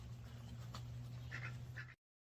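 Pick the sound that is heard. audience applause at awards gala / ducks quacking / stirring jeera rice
ducks quacking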